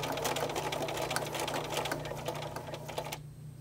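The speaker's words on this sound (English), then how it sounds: "Start near one of the corners and back tack to secure it." A sewing machine runs steadily, stitching a string-pieced fabric bowl cozy with a rapid even whir and needle rattle, close and continuous before stopping abruptly near the end.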